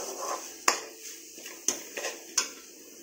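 A spoon scraping and tapping against a pan while masala is stirred with onion and tomato for a white chickpea kuzhambu, a few sharp metallic clinks spaced over a soft background hiss, no talking.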